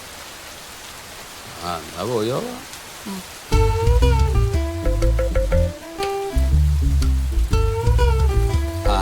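Steady rain falls through a comedy scene, a continuous hiss that is clearest at the start and then sits under people talking and loud background music.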